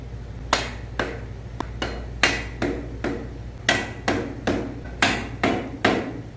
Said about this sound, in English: I'm going to lightly tap them down to seat them fully. So you hear that loud kind of clack.